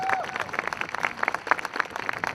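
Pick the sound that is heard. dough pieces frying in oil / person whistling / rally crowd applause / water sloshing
rally crowd applause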